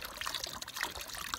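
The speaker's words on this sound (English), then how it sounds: "So that sploshing and splashing isn't awesome" A watery solution of about one third muriatic acid sploshes and splashes in a container, with continuous close liquid sloshing and small splatters throughout.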